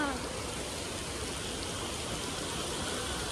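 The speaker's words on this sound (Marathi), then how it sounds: "पाऊस चालू झाले" Steady rain falls outdoors during a Navratri festival outing in India, a dense, even hiss of drops that continues without a break, fairly faint and with no talk.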